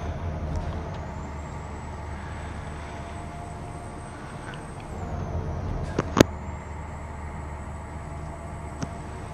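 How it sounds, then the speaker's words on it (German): Steady low drone of an International 9800 truck engine cruising in American Truck Simulator, a constant broadband rumble with a brief hiss and a sharp click near the end, no voices. "Aber er hat auch ein schönes Motorgeräusch."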